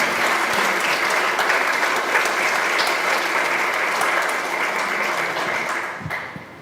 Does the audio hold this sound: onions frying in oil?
no